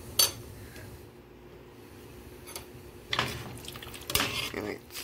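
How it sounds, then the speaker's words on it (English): A spoon stirs Cajun-spiced cream of chicken noodles in a pot on a stovetop burner, giving scattered scrapes and metallic clinks against the pot, fairly faint and close, with quiet gaps between strokes. "Stir it up some more"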